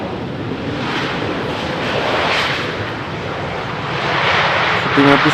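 An Embraer airliner approaching to land on runway 18R at Amsterdam Schiphol, a steady broadband engine roar with rushing wind noise that swells slightly toward the end, heard from a distance with no talking.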